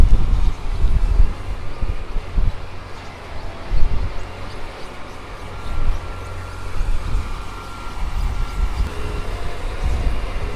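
Steady blustery wind buffeting the microphone outdoors on a farm, a low rumbling roar with gusts rising and falling throughout.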